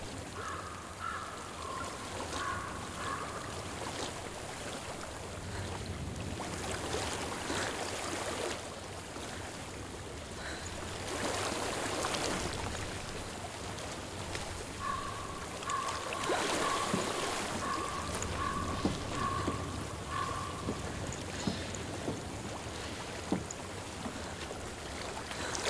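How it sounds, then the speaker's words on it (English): Steady rushing and lapping of flowing water in the video game Hellblade: Senua's Sacrifice, a continuous wash of moderate loudness with faint distant cries over it. "I hear water."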